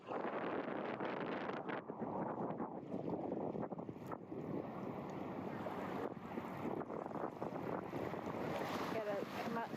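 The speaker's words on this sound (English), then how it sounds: "I also wanted you to hear the ocean sounds and the birds and the waves" Ocean waves and wind on a Fort Myers beach on a chilly day, a loud, steady roar of surf and gusts buffeting the microphone that continues for the whole stretch.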